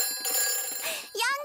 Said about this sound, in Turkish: Yangın telefonu çalıyor.